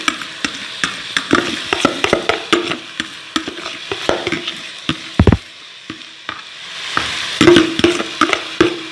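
Cooked rice is stirred into sugar syrup in a pot for zarda, giving repeated wet scraping strokes with a spoon and soft sticky squelches, irregular and close, with a faint sizzle from the heat underneath.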